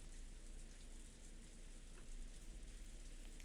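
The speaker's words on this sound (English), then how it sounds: "Kenzo noticed the sound of the raindrops beating on the window." Rain from the Umineko visual novel pours and beats against a window, a steady, heavy hiss of drops with a low rumble underneath, continuous and fairly close, with no talking.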